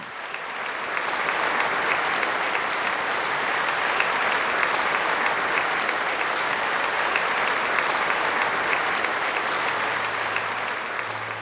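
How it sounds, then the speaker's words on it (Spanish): A church congregation claps steadily for the Lord after a sermon, dense continuous applause filling the room at moderate loudness for over ten seconds with no voices above it. "Un aplauso al Señor"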